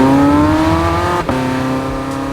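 A Porsche 918 Spyder hybrid supercar with top-exit exhaust pipes and a 7-speed dual-clutch gearbox revs hard under full acceleration, its loud rising engine howl interrupted by a quick gearshift, then climbing again, close and without talk.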